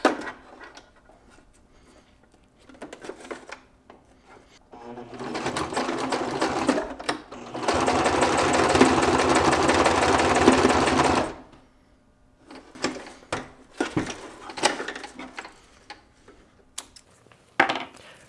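A sewing machine stitches nylon webbing in a manufacturing setting, running in a loud sustained burst of several seconds between shorter starts, with handling clicks and shuffles of the webbing before and after.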